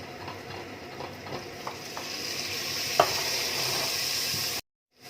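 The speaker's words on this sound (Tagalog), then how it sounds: "After garlic guys, ilagay na natin itong ating kamatis." Tomatoes sauté with garlic in a hot pan, making a soft, steady sizzle with a few stirring scrapes and one sharper clack near the end, then the sound cuts off abruptly.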